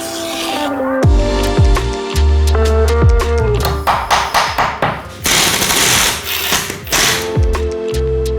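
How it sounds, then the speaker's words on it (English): An SDS hammer drill bores a hole through pine skirting board, producing loud, close rapid hammering bursts with pauses and a few heavy knocks in between. "I'm going to put a little hole through, ready for the put the SDS through, just so we don't smash the back of the timber out"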